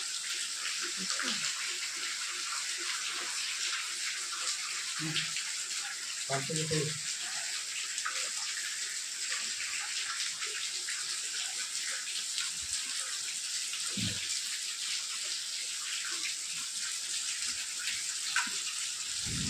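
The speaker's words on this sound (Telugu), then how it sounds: "వాన వస్తుంది" Morning rain falls as a steady, even hiss with occasional soft knocks and thumps, and faint voices now and then.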